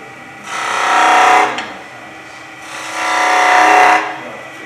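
Woodturning tool cutting a V into a spindle on a lathe, two loud, close scraping passes of about a second each with a brief quiet gap between.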